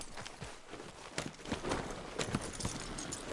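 Horse hooves clip-clop steadily on the ground in Red Dead Redemption 2, a continuous walking rhythm of soft thuds at moderate distance, with no talk over it.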